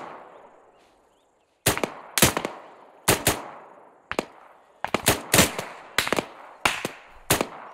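Gunfire in the military video game ARMA 3: sharp, loud single shots and short bursts ring out at irregular intervals after a brief quiet stretch, with reverberant tails between them.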